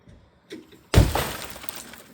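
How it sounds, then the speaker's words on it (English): Glass shatters with a sharp crash after a quiet lead-in and a small knock, then fragments tinkle and scatter for over a second. "you see where the glass just shattered back everywhere all around us"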